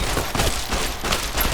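Gunfire in the Fallout: Tale of Two Wastelands video game, a fast, continuous volley of loud shots packed tightly together with no pause.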